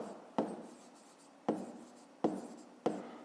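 Pen scratching on paper in four short, evenly spaced strokes, quiet and close, with no talk.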